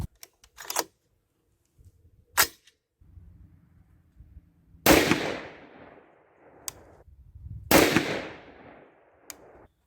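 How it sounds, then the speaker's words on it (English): Rifle shots from an R15 in 6.5 Grendel firing 123gr Lapua Scenar rounds at a 100-yard range: several sharp, loud reports spaced a few seconds apart, two heavier blasts with rolling echo tails, plus a faint low rumble between them. "We're shooting at 100 yards."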